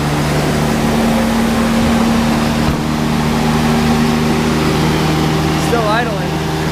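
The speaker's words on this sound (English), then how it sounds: "It's idling pretty stinking high" A 1964 Lincoln Continental engine fitted with an Edelbrock 1406 carburetor idles high, a loud, steady droning hum with constant tone, running alone without a break.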